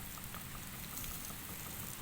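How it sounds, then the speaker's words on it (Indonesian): Water sprayed over a freshly planted field of mini elephant grass, a soft continuous hiss and patter, faint and steady. "ini kita sedang siram dulu lahannya"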